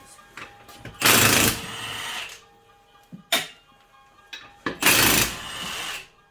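Lug nuts on a 2008–14 Dodge Avenger 2.4L come off with a 19mm socket on a power tool, three loud bursts of whirring rattle separated by short pauses and a few clanks, fairly close.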